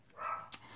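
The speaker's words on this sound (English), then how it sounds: "pardon my dogs in the background" A dog gives a single short, faint bark or yip from the background.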